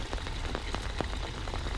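Rain pattering onto the Blue Lake in Vynohradar, Kyiv, a dense, steady hiss of drops striking the water with scattered sharper plinks, close and continuous.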